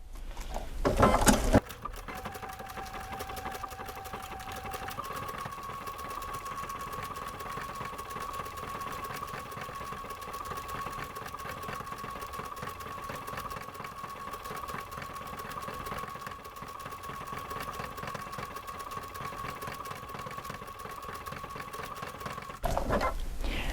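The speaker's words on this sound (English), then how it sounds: "I'm going to sew a little bit slower because, like I said, I'm doing something a little bit different" A sewing machine stitching slowly along a seam with a 12-weight thread, running as a steady, even mechanical hum for about twenty seconds, with brief handling noises at the start and end and no talk.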